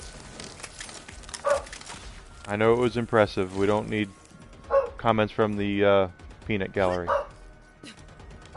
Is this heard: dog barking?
yes